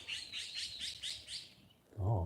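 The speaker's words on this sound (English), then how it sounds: "Oh, birds are flying around." Small birds chirp in a quick series of bright, repeated tweets in a warm Tokyo park, fairly close but soft, followed by a low thump-like rustle at the end.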